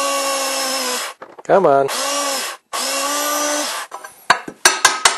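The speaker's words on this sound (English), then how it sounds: "Notice I didn't spray any WD-40 on that, because this is a new drill bit and I like to live dangerously." A power drill fitted with a new bit bores into metal with no lubricant. It gives loud, sustained high whines, with a brief motor spin-up sweep in between and short bursts near the end. Someone mutters briefly.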